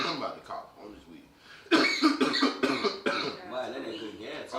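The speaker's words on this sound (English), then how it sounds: "I'm about to cough on this weed." Harsh coughing fit after smoking weed, several loud close coughs in a row that break up and trail off into throat clearing.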